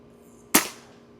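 A single sharp shot from an Air Venturi Avenge X Classic PCP airgun, one close, loud crack that decays quickly, alone with no talking.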